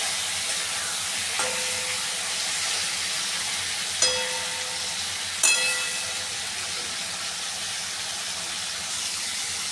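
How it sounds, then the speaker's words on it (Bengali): Potatoes and ridge gourd frying in a pan give off a steady, moderate sizzle and hiss for the whole stretch, with a few sharp clinks of stirring. No one speaks. "আলু আর ঝিঙেটাকে আরও খানিকক্ষণ ভেজে নিচ্ছি।"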